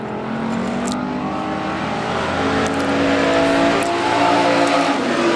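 Pure stock race cars roaring around Central Arizona Speedway during a heat race, a loud, continuous wall of engine drone that builds slightly as the pack comes nearer.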